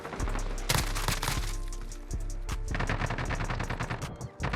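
M13 rifle fire in the Modern Warfare multiplayer game, heard as rapid automatic bursts over a steady low game hum, with loud sharp repeated cracks holding close and continuous for most of the stretch.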